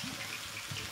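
Faint tap water runs steadily into a pot while a dish seasoned with oyster sauce is being cooked, a soft continuous trickle with a couple of low gurgles.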